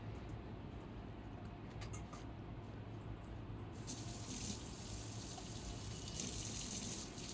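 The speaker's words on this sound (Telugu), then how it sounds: "ఆ గుడ్డు పోకుండా జాగ్రత్తగా అటు ఇటు చేతితో పాముతూ కడుక్కోవాలి నీట్గా." Raw crabs rubbed clean by hand in river water, with faint continuous running and splashing water and a brighter gush partway through, quiet and close.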